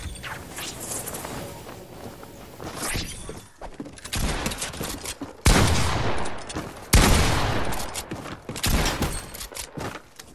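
Cannon fire in a video game ship battle: repeated loud, booming blasts in bursts and volleys, with crashing, shattering impacts between them, near and forceful.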